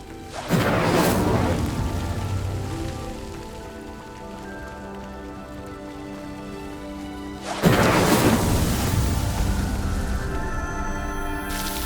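An Incendiary fire spell striking a pyre in Hogwarts Legacy, two loud bursts of roaring, crackling flame about seven seconds apart, with a low rushing hiss sustained between them.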